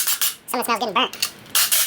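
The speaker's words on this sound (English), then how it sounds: "Got little pieces of metal popping out on the floor." Small metal pieces from a Honda B18C1 engine teardown dropping onto the floor, a quick cluster of bright clinks and rattles followed by a few more scattered tinkles.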